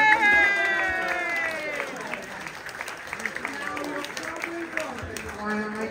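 Audience applause at a Blackpool weekend gathering, a dense patter of clapping that swells at first and then fades under a speaker's voice and cheerful crowd chatter.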